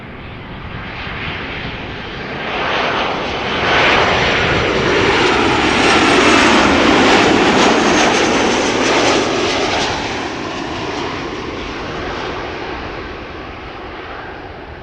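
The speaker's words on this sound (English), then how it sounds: "KLM flight 1042, arriving from Birmingham, 737-900, 43 minutes on the way" A KLM Boeing 737-900 landing at Amsterdam Schiphol roars past close and loud, the jet noise swelling to a peak mid-pass with sweeping tones, then easing off, with no talk.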